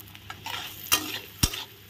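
Mung dal frying in oil in a pan, a soft steady sizzle with brief stirring scrapes and a few sharp clinks of the spoon against the pan, close by and with no talking.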